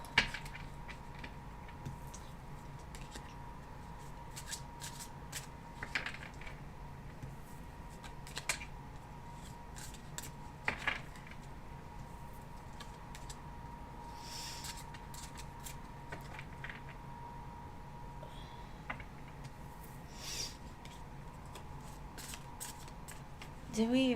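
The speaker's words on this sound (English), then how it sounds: "Let me shuffle these cards back in" Soft papery riffling and snapping of tarot cards being shuffled, with brief crisp bursts scattered over a quiet room hum, no talking.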